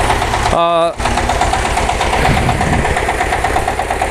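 A new Excel power tiller engine runs loudly at a steady idle, a continuous close mechanical drone with its hydraulic lift being raised and lowered, interrupted briefly near the start by a short burst of speech.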